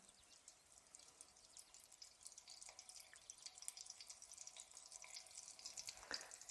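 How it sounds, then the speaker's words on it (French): Soft, steady crackling and fine popping of a beef meatball frying in olive oil, with occasional brighter pops, continuous and fairly faint throughout. "dès que j'entends que ça commence à crépiter un petit peu, que ça fait des petites bulles autour de la boulette"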